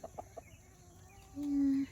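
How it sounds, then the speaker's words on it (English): A few soft clucks from older hens, then a single drawn-out, higher call, close by in a quiet setting. "These are all the older chickens."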